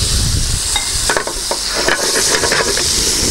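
Loud, steady sizzle of a rib eye steak frying in a pan with garlic and oil, crackling spatters throughout and a few soft scraping stirs, no voices.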